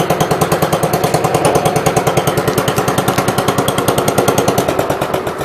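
A tractor engine idles close by, a loud, rapid, steady chugging pulse that holds an even rhythm throughout.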